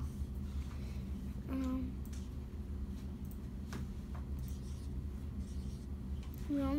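A number being written on a classroom board, faint scratchy marker or chalk strokes over a low steady room hum, with a voice briefly speaking.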